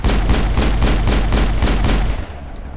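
Rapid pistol fire in the Mass Effect video game, roughly seven evenly spaced loud shots over about two seconds, each with a booming low tail, then the firing stops.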